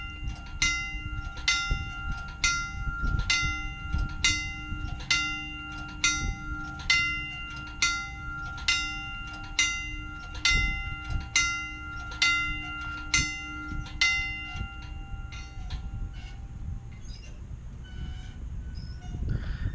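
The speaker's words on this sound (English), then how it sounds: "The first railroad crossing signal that I'll activate is a wigwag or a banjo signal." A vintage wigwag, or banjo, railroad crossing signal at the North Carolina Transportation Museum rings its bell in steady rapid strokes for most of the run, close and loud over a low machine hum, then stops near the end.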